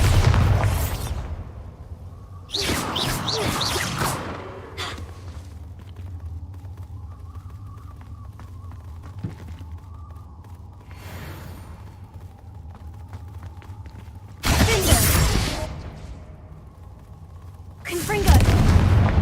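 Bombarda exploding spell blasts in a Harry Potter video game, four loud separate booms spread across the stretch, each a sharp broadband burst, with quieter game ambience and occasional voices between them.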